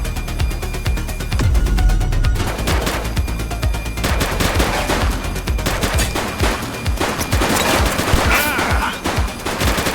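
Bursts of rapid gunfire in the police game The Precinct, loud and close, with dense overlapping shots and machine-gun-like volleys filling the whole stretch.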